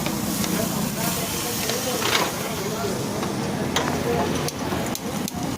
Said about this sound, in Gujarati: મસ્ત મજાના આપણા ફ્રાય રાઈસ બની રહે છે.